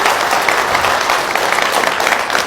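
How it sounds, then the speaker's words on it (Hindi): An audience gives a hearty round of applause for an organization at a motivational talk, a steady, loud wash of clapping from many hands. "एक बार जोरदार तालियां हमारी ऑर्गेनाइजेशन के लिए होना चाहिए।"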